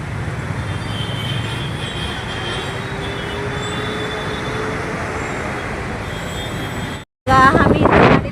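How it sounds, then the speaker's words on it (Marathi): Dense road traffic roars steadily in a constant wash of engine and road noise, then cuts out for a moment before a loud final burst carrying tonal, horn-like blares. "सगळं गाडीचा आवाज आहे, नुसतं हॉर्न वाजायला लागले"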